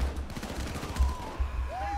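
Gunfire in the heist game Payday 2: a rapid, dense stream of shots rattling continuously under the game's background noise, fairly close and steady for a couple of seconds.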